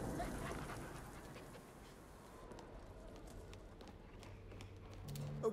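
A dog in the video game Arizona Sunshine 2 pants quickly and rhythmically, fairly close, over a faint background hum, with some rustling and a soft thump near the end.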